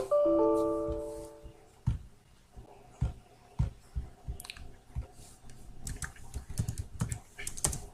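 Fingers typing a short transaction code on a computer keyboard, a handful of close, crisp key taps spaced irregularly after a brief tonal chime at the start, with no talk.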